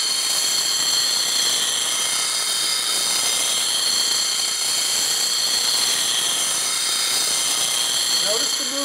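A bench grinding wheel sharpening the bevel of a detail/spindle gouge for woodturning, a steady high hissing whine held throughout under a faint voice.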